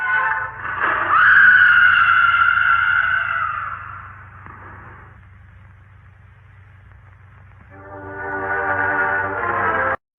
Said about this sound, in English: It is a little confusing as to why they would dub in a woman screaming for this dude.